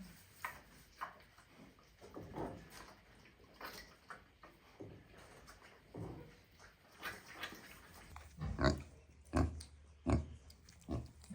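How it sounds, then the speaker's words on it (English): Pigs on a farm at feeding time, grunting and snuffling close by in a restless stream, with a run of louder, sharper grunts near the end. "I hope you guys enjoyed the pigs."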